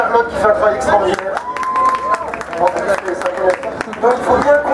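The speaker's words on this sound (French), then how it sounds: "On applaudit Charlotte qui fait un travail extraordinaire" Audience clapping and cheering at a talk about a 5,000-kilometre four-seat bicycle climate ride, a dense steady crowd sound with voices mixed in throughout.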